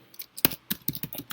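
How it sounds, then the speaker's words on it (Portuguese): Rapid, uneven clicks of keys on a computer keyboard while Turbo Pascal code is entered, close and fairly quiet, about a dozen sharp taps with no talking. "Nós vamos digitar um write aqui."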